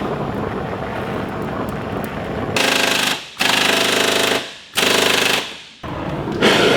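Pneumatic impact wrench hammering on a bolt under a 1984 VW Scirocco, loud and close in several hard bursts of a second or so with short gaps between them, no talk.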